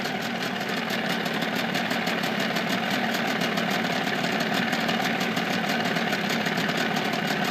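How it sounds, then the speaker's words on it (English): Mercury 25hp electric-start outboard motor idling in neutral, a steady close mechanical drone with a fast even pulsing throb that holds unchanged throughout, no voices. "We'll just let it sit here and idle a bit."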